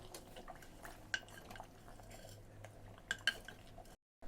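Bihar-style mutton cooking in a sealed clay pot is stirred with a utensil, giving quiet scraping and a few clear clinks against the pot over a soft background hum.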